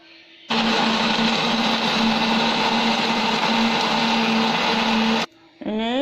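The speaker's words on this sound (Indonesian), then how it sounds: "kemudian blender." A kitchen blender grinds chilies and dried shrimp with water, starting abruptly and running loud and steady for several seconds before cutting off, followed by a brief clatter.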